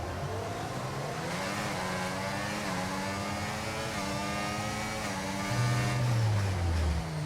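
Several Formula 1 cars in the F1 24 racing game launch off the grid at a race start, engines revving hard in layered rising whines that climb through the gears, with a louder nearby car surging up in pitch toward the end.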